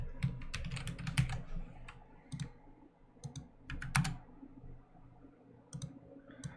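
Irregular bursts of computer keyboard typing, with uneven clusters of sharp key clicks and short pauses between them. The clicks sound close and fairly quiet, with no voice over them.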